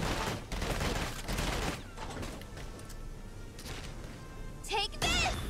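Bursts of gunfire from the video game Valkyria Chronicles 4, loud rattling volleys with crashes and clatter, mixed with game sound effects and some voice.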